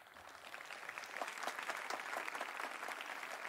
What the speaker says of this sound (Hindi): अग्रिम तालियां दे दीजिए इनके लिए।